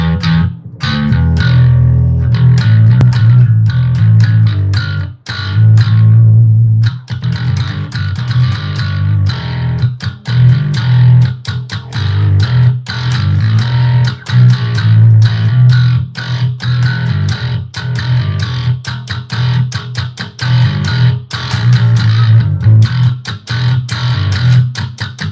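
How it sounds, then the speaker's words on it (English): Guitar played through an effects preset named 70s Vibe, a loud distorted, modulated electric tone with steady sustained low notes and rapid picked rhythms running continuously, briefly dropping out near the start. "Bea has some tones. This is called 70s Vibe"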